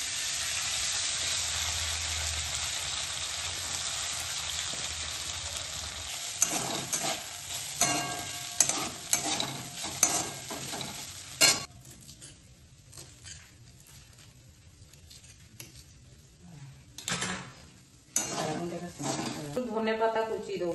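Flattened rice (poha) stirred and fried in a pan with turmeric and mustard seeds, a steady sizzle broken by scraping stirs and clatters of a utensil against the pan, with brief voice sounds now and then.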